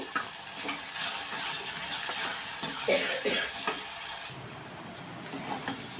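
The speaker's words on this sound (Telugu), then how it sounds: "ఆనియన్స్ పూర్తిగా ఫ్రై అయిపోయాయి కదా" Salted onions fry in a pan, a continuous moderate sizzle with intermittent stirring scrapes and a faint watery hiss, no voices.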